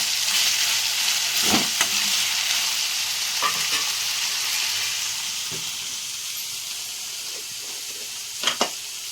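Bitter gourd curry frying steadily in a pan, a continuous close sizzle with a few brief scraping stirs of the spoon, recorded at night with no talk.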